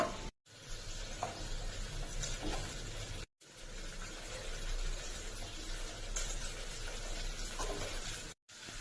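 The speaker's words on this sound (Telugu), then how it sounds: "ఆనియన్స్, పచ్చిమిర్చి వేగాయి. ఇప్పుడు వెజిటేబుల్స్ వేసుకుంటాను." Chopped vegetables tipped into a pan of onions and green chillies frying in oil, giving a steady, close sizzle and crackle with brief stirring, broken by a couple of short cuts.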